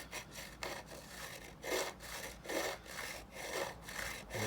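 A file scraping across guitar frets on a Viper 500, in steady back-and-forth strokes with a dry rasping rhythm, close and moderately loud.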